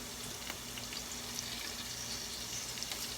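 Shrimp sautéing in a hot pan for shrimp macaroni with cheese, a constant close crackling sizzle without a break, fairly quiet and alone.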